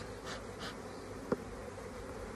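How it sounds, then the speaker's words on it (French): A low, steady buzzing of a few honeybees, faint and continuous, with a soft tap partway through. "Donc ici il y a quelques abeilles, très peu."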